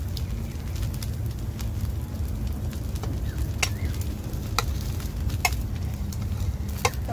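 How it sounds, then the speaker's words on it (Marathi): Rice flour ghavne fry in oil on a pan, giving a low, steady sizzle and bubbling crackle throughout, broken by occasional sharp spatters and pops. "तर आता मी तेल घालून घेते घावण्यावर"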